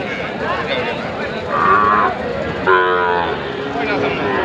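Cattle moo at a busy livestock market, with two drawn-out calls rising over a constant crowd murmur and nearby people talking.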